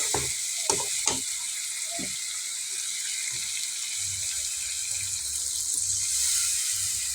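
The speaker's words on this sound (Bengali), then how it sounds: "এরপর আমি ঝোলে পানি দিয়ে দিব" Curry sizzling steadily in a pan as water is added, a continuous hiss with a few sharp knocks and splashes early on, close and unbroken.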